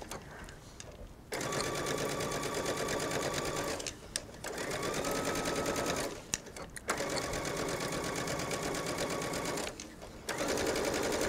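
A sewing machine stitches twill tape onto the bottom edge of jacket fabric, running in three long steady bursts with brief pauses between them, close and loud.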